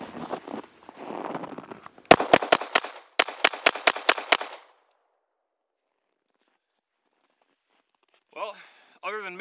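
A Springfield Mod 2 pistol with an extended magazine fires about ten rounds in quick succession, sharp loud cracks in two rapid strings separated by a short pause, followed by silence and then a voice.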